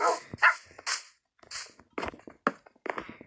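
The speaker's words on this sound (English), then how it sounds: "Sometimes it's really annoying when you have all these dogs." Tamed dogs in Minecraft bark in a quick series of sharp, fairly close yaps with short gaps between them, standing alone without talk over them.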